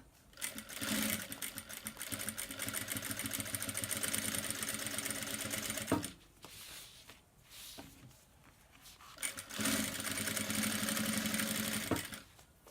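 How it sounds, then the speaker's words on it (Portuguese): Sewing machine running in long steady bursts while topstitching a leather-look bag strap, with brief pauses and a short stop near the middle before stitching resumes, close and fairly loud. "agora é hora de passar a nossa alça na máquina com pesponto também"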